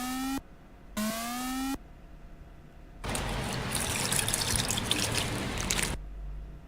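A bubbly, rushing pour of water from the video game I wanna Become the Vegetable lasts about three seconds after two short tonal chimes, loud and clean with no talking.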